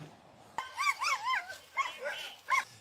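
Dogs barking and yipping up close in a police encounter, a quick run of high, whiny barks in short bursts with brief gaps between them.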